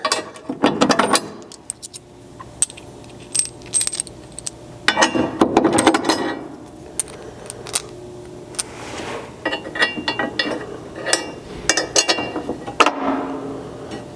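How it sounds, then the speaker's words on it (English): Half-inch bolts being threaded by hand into the bed stiffener holes of a second-generation Chevy Colorado pickup, with intermittent metallic clinks, scrapes and ratcheting clicks in separate bursts, close up. "So I've grabbed some of our 1/2 inch bolts from our bolt pack, and we'll just see if we can start all 4 of these easily."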